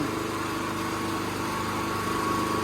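Small engine on a used Maruyama aerial lift truck, a 3.5-metre orchard lift, runs at a steady, close, continuous idle with a light high-pitched whine and no speech.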